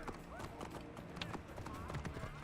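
Horse hooves clip-clop from a horse-drawn chariot in Assassin's Creed Origins, steady rhythmic clopping with a whinny, mixed under game voices and combat noise.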